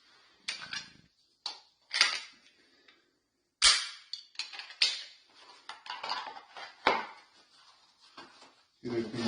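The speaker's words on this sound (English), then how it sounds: "Get used to pulling the trigger, squeezing it to the rear, not yanking it, not jerking it." Pistol dry-fire practice, the trigger squeezed and reset so the striker gives sharp mechanical clicks and snaps at irregular intervals, close and fairly crisp, with handling noises between.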